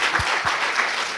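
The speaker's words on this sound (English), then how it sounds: "Octavius, round of applause." A live audience at a talk show gives a round of applause, dense continuous clapping from many hands, loud and close.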